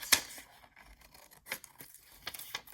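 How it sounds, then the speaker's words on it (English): Scissors snip through scrap paper in a few quiet, crisp cuts with soft paper rustling between them, close and faint, during a budget papercraft project. "I'm going to just cut that."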